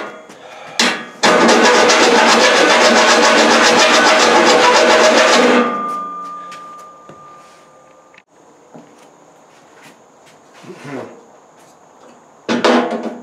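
Metal file rasping against diamond plate steel to make it fit a hood, a loud, dense burst of rough scraping strokes for several seconds, followed by quieter handling knocks and clicks.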